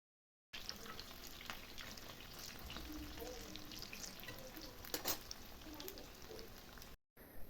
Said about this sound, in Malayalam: ഇപ്പോൾ ചിക്കൻ തിരിച്ചും മറിച്ചും ഇട്ട് ഫ്രൈ ചെയ്തെടുത്തിട്ടുണ്ട്